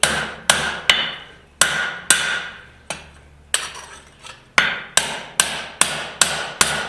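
Hammer blows fall on a garden cultivator trowel blade being forged, sharp metallic strikes arriving singly and in quick pairs with ringing decay, up close and with no voices.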